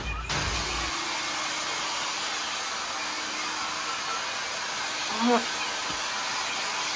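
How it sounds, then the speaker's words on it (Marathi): A hair dryer blows warm air over a beagle just after its bath indoors, giving a steady, close, broadband whooshing hiss with only a faint brief sound cutting in near the end. "आता थोडं ड्रायर मारून घेऊयात."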